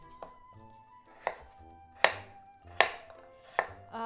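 A knife chops peeled pumpkin into small pieces on a board, five sharp evenly spaced cuts with quiet pauses between them.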